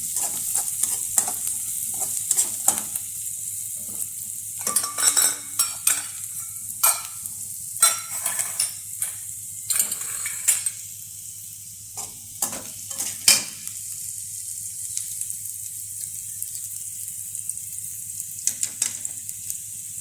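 Flattened rice (avalakki) is roasted in a pan and stirred, giving a soft continuous sizzle with scattered scraping and clinking strokes of a spoon, close up and with no talk.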